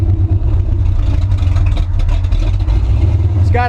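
A 1968 Chevy C10 pickup with fuel injection and cheap eBay mufflers rumbles with a deep, steady idle, loud and close, the low exhaust drone continuous throughout with slight clatter on top.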